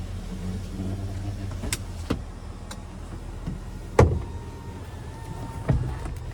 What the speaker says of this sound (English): there is the power sliding rear window